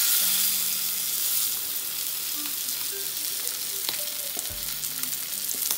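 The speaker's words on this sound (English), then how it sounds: "And now the oil is heated up. It's time to fry the fish." Pomfret fish shallow frying in hot oil on a tawa, a busy crackling sizzle with occasional pops and faint clinks of utensils, close and steady throughout.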